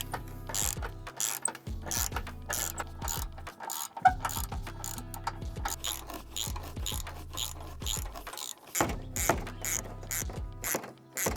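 Ratcheting clicks from a hand tool backing out a screw near the fender liner of a fourth-generation Toyota 4Runner during a front bumper install, in repeated bursts of rapid clicking with short pauses, close up and steady.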